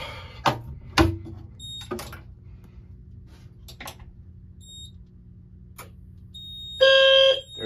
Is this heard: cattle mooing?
no